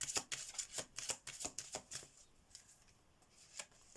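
A deck of oracle cards is shuffled by hand during a tarot reading: quick, papery riffling bursts in a rapid, uneven rhythm, close and soft, thinning out toward the end.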